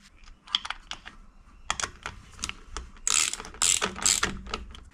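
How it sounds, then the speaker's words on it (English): A torque adapter tightens the bolts of an EEL 12V battery case to 4 Nm, giving bursts of rapid ratcheting clicks close up, growing denser and louder toward the end, with no talk. "then we set 4 Newton meters with our torque adapter"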